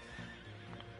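A horse neighs in a video game: one drawn-out whinny with a steady tone over a continuous, busy game soundtrack, close and fairly loud, with no talking.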